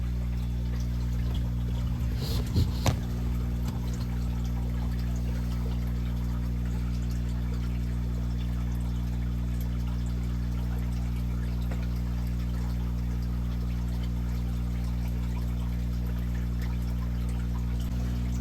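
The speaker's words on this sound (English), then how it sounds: "Now that we brought it down from the tank, it's still dripping a little fast" Water drips and trickles from an aquarium tank into a bucket, a steady flow under a constant low mechanical hum, with a few brief louder splashes early on.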